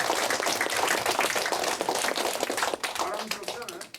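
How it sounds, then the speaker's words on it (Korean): A school audience claps together in a dense burst of applause that holds steady for a few seconds and then thins out, with some voices mixed in. "심심하니까 박수 한번 치시죠."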